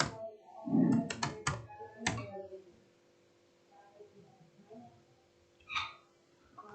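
Laptop keyboard typing in a home setting, a quick burst of clicky keystrokes at the start followed by quieter scattered taps, with a voice talking over parts of it.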